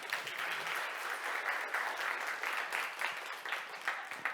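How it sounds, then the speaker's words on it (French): Steady applause from a sizable conference audience, dense clapping that continues evenly throughout without voices rising above it. "On les applaudit encore."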